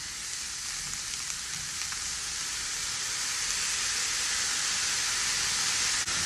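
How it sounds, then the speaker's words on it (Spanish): Vegetables, green beans, soy sauce and shredded chicken sautéed in a pan for spring roll filling: a steady, loud, close sizzle and hiss that runs without a break and swells slightly toward the end. "Y lo vamos a saltear hasta que estén los vegetales"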